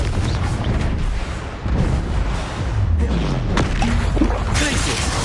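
A Confringo fire spell explodes during a wizard duel in Hogwarts Legacy, a close burst of blasts and rumbling magic effects under a raised voice calling out spells.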